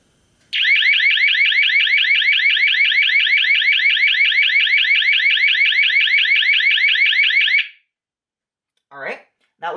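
Warble tone from the alarm output of an ELK-941 alarm output separator, a loud, steady rapidly alternating electronic tone running about seven seconds alone, then cutting off before brief voices.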